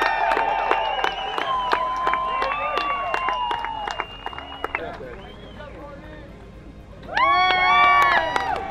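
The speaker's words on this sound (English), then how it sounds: "Give him a round of applause." A crowd at a World Long Drive night event in Mesquite cheers and applauds for the championship ball, with loud whoops and a music or announcer bed, then a lull before another surge of cheering near the end.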